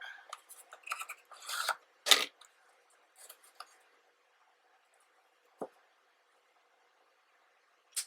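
Material being cut with scissors while making a box for giant playing cards: a cluster of close, crisp snips and rustles, then quiet, with a couple of isolated clicks later.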